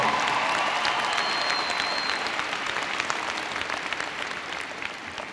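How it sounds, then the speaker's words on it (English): Steady, dense applause from a large commencement audience at a university graduation, loud and sustained from the start and tapering slightly toward the end. "Give a round of applause to Johnny."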